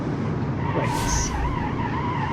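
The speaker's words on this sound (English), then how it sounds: "Oh my god, brakes are not really good. Braking from a high speed, it's not really, you know, powerful." A car in the BeamNG.drive game brakes hard from high speed, tires skidding with a sustained scraping squeal over steady engine and road noise.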